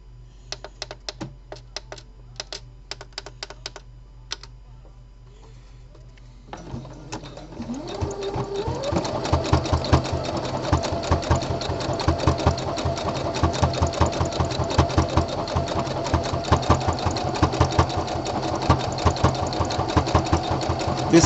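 A sewing machine works a slow decorative top stitch on sportswear fabric: a few scattered clicks at first, then the motor starts and settles into a steady rhythmic run of close, evenly paced needle thumps.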